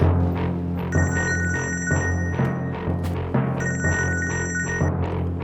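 A phone ringtone chirps in two repeated bursts over a louder tonal musical backdrop.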